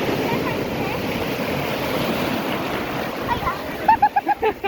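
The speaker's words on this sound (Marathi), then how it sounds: "इकडे छान मोठ्या मोठ्या लाटा येतात." Big sea waves breaking on Arnala beach make a steady, close roar of surf that fills the whole stretch, with voices speaking briefly near the end.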